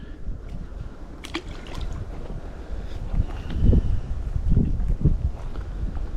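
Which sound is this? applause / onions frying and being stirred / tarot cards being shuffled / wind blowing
wind blowing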